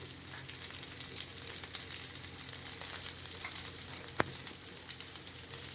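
Chopped onion, curry leaves and green chilli sizzle and fry steadily in a hot pan, a continuous close crackle with occasional stirring scrapes and one sharp clink, no voices.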